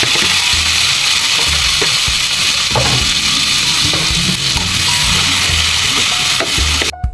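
Marinated pork ribs sizzling loudly in a pan with onions for caldereta, a steady hiss of frying with occasional stirring scrapes and clinks, no talk.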